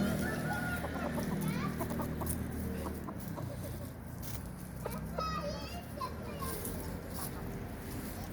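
Chickens cluck and a rooster calls amid a busy outdoor scene, with children's voices and chatter running throughout at a steady, close level.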